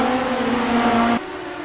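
Race cars in the iRacing sim roar past at Williams Grove, their engines a loud, steady droning whine with strong harmonics that drops abruptly in pitch and level as the pack passes by.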